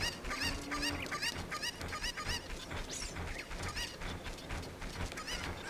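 Cuccos in the video game Ocarina of Time, a dense, continuous chorus of clucks and squawks, fairly quiet and overlapping throughout.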